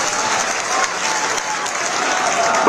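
A large crowd at a farmers' protest rally at Delhi's Singhu border claps in dense, sustained applause, loud and close, without a pause through the whole stretch.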